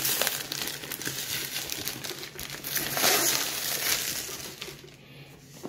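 Packaging of a Seasonic Focus PX-550 550-watt power supply is ripped open, producing continuous loud crinkling and crumpling of plastic and cardboard up close, with no talking.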